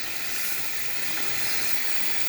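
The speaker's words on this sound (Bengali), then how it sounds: "মশলা কষানো হচ্ছে" Spice masala for a tengra fish curry with potol and potatoes sizzles in a hot pan, a steady bright hiss that stays even and alone throughout.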